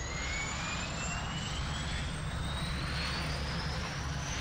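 A helicopter engine in the video game Hold Your Own runs continuously with a steady, loud turbine whine and rising high-pitched tone over a constant low rumble.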